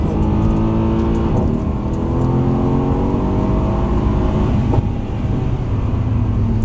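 A car driven on a track accelerates at full power, its loud, close engine note climbing steadily in pitch without a break, with no voices over it.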